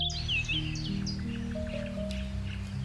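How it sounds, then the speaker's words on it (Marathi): Birds chirping and twittering on a village morning, a busy mix of bright calls and trills near and far over a steady low background hum, with no talk. "पक्ष्यांच्या गोड किलबिलेटाने मन भारावून जातं"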